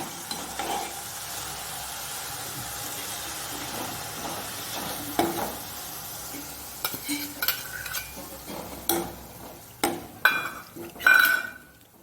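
Onion frying in a pan with green garlic just added, a steady low sizzle under scattered clinks and scrapes of stirring that grow louder and more frequent toward the end, with no voices.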